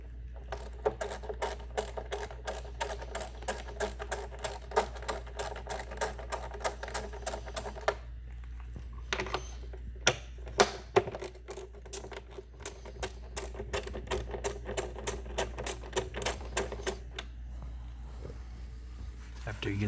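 Engine cover bolts come off a Ford Mustang S550 with bursts of rapid, regular ratchet clicks, close and crisp, broken by short pauses and a few sharper knocks.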